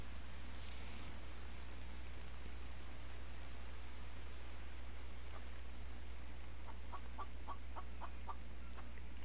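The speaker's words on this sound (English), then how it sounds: "Chicken, I hear you" Outdoors under steady rain hiss, a chicken gives a short, evenly spaced run of clucks near the end, moderately faint and somewhat distant.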